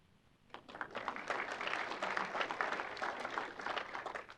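Audience applause in a legislative chamber, many hands clapping steadily and fairly close, swelling after a brief quiet start and sustained to the end with no talk over it.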